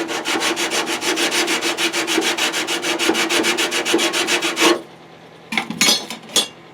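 Hand sanding on a Taylorcraft airplane part under restoration: steady, close rhythmic rasping strokes for several seconds, then a pause and a few brief scrapes.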